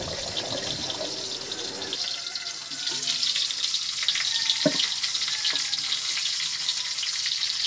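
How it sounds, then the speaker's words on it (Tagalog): Boiled pork leg sautéing with onions in a pan, a steady close sizzle and frying hiss with faint stirring scrapes and knocks throughout. "Haluin natin ito at igisa na mga ilang minuto."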